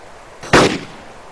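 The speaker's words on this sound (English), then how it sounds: "Wherever I put the dot at and fire, that bullet's going to hit that dot." A single sharp M14 AIM sniper rifle shot in DayZ, one loud close crack with a short decaying tail, standing alone without talk.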